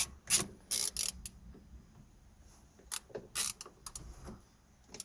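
Tool clicking while the third bolt is undone on a Renault Clio door mirror, a run of sharp ratchet clicks in quick groups with short pauses between them, close and moderately loud against a quiet background.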